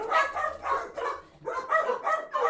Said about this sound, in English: The dogs just got home.